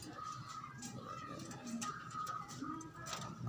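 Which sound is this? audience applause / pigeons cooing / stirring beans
pigeons cooing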